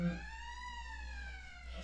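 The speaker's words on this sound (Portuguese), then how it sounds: "assim que toca a sirene ucraniana" A Ukrainian air raid alarm siren holds a steady, sustained wail, even in level throughout and moderately loud, with no other sounds over it.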